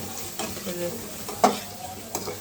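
Thick spice paste for a rohu fish-head murighonto being stirred and sautéed in a pan in a village kitchen, with a soft steady sizzle broken by a few sharp spoon scrapes, close and moderate, no talking.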